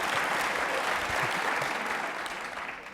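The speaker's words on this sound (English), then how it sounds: "And I wanted to hear that applause" Audience applause at a 2017 evening author conversation with novelist Anthony Marra, a dense, steady wash of clapping from a large crowd that fills the whole stretch and tapers slightly at the end.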